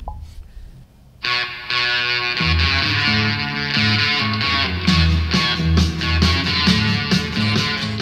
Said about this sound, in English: And here's what it sounds like with the Amazon Echo speaker.